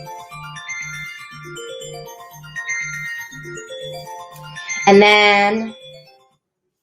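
A phone rings with a repeating electronic melody, fairly close, accompanied by a low buzzing vibration pulse; a brief louder tone burst follows and a voice speaks a few words before it stops.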